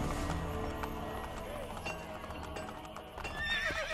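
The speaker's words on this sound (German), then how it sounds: "Ja, da kommt mein Pferd jetzt angeritten." A horse in the video game Assassin's Creed Brotherhood gallops with quick rhythmic hoofbeats and a whinny, with game background sounds and someone talking over it.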